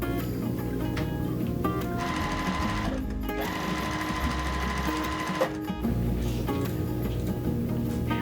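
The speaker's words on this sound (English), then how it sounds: "I'm just gonna go ahead and sew our top 2 squares together and our bottom 2 squares together" Sewing machine stitching quilt squares together for a flying wheels quilt block, a loud steady mechanical whir with rapid needle ticking that runs almost continuously, with two brief pauses before resuming.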